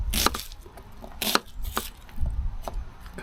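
Knife chopping a yellow onion into squares on a cutting board, several crisp, uneven thuds at close range with short gaps between cuts.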